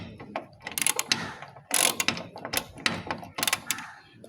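A hand ratchet wrench clicks in quick bursts as it turns to loosen a bolt in a workshop, with several close, loud runs of sharp ratcheting clicks separated by short pauses.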